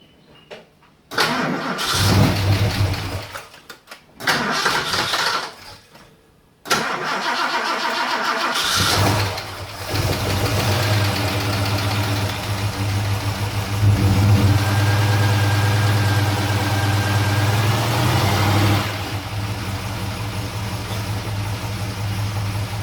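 An old car engine cranks in several short bursts without oil pressure primed, sputters, then catches and settles into a steady, loud idle that runs on without a break.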